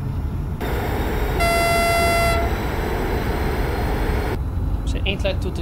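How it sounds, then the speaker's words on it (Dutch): Small horn mounted on top of a BR111 electric locomotive toots a single steady note of about a second over loud, constant rail running noise, heard from inside or beside the train. "Zijn één klein toetertje bovenop."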